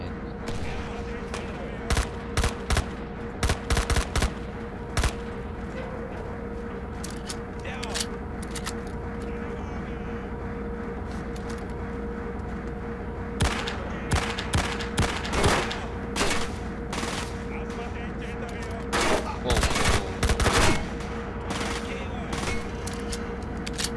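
Gunfire in the PC shooter I.G.I 2, with sharp bursts of shots in several clusters across the stretch, some rapid and automatic, over a steady droning background hum of the game.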